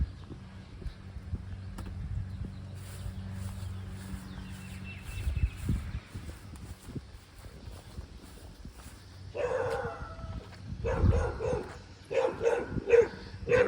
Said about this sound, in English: Neighbors have a dog, obviously.